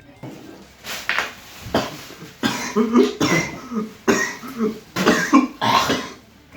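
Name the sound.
coughing after inhaling a cigarette alternative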